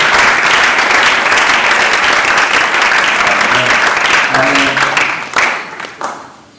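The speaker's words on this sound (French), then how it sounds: "Est-ce qu'on peut acclamer les Seigneurs?" Church congregation applauding loudly and steadily for the Lord after a prayer, a dense sustained clapping that thins and fades toward the end.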